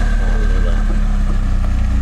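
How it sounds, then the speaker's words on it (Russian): A Lada Niva Travel engine drones steadily at low revs in first low-range gear on a climb, a loud, close, throbbing hum with a constant rumble and no talking. "Слушайте движок"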